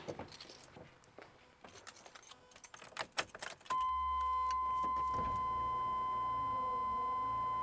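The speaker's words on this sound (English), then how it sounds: "I'll go ahead and hit the switch so we can roll the window down" The power rear window in the tailgate of a 1988 GMC Jimmy 4WD hums as it motors down, a steady whine that begins midway after some jangling keys and clicks, close and clear.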